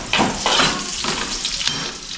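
Garlic sizzles and fries in a pan while cooking dinuguan, with a steady crackling hiss and a few louder bursts of stirring, close and continuous with no talk.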